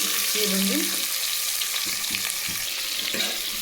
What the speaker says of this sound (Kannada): ಇವಾಗ ಇದಕ್ಕೆ ಸಾಸಿವೆ ಒಗ್ಗರಣೆಗೆ